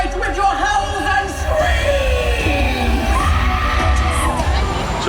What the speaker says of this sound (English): Let us fill the night with your howls and